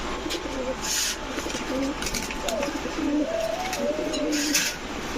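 China khaki pigeons coo close by in a series of soft, low, rolling calls repeated over several seconds against a light background hiss.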